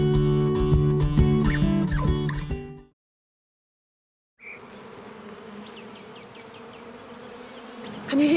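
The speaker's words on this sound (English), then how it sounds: "It's the sound of African killer bees making this honey." African killer bees buzz steadily around the honey they are making, a dense close swarm hum running continuously; a burst of unrelated music comes first, then a brief silence before the buzzing begins.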